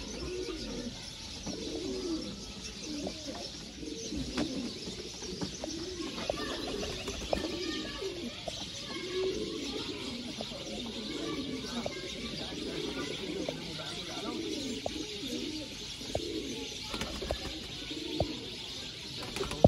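Breeder pigeons, Ferozpuri and Sialkoti birds, coo continuously in a loft, soft overlapping calls with occasional chirps, while someone talks over them.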